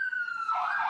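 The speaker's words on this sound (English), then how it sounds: "It appears the ambulance just went by me right there" Ambulance siren sounding briefly, a clear wailing tone that shifts pitch as it passes close by.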